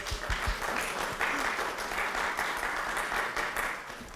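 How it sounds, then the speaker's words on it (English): An audience at a Champlain College event applauds, a dense, steady wash of clapping from a crowd that fades slightly at the end. "Clap, clap, clap."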